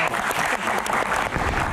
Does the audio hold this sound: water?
no